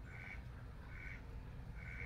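Village ducks quack in three evenly spaced calls, faint and somewhat distant, over a steady low background rumble.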